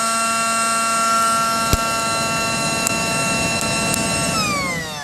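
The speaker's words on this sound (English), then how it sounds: "you use the air mattress blower to stoke it" Battery-style air mattress blower used to stoke a small campfire on a soaked Mt. Graham campsite: steady loud whining motor hum with strong tonal harmonics, dropping in pitch near the end as it winds down.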